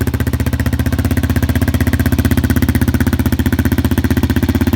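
Suzuki LTZ400 quad fitted with an FCR carburetor, idling steadily with a rapid, even, loud throbbing pulse from close by and no talk.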